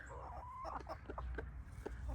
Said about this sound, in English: A big rooster, Mr. Ruffles.